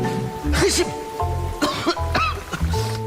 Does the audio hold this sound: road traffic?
no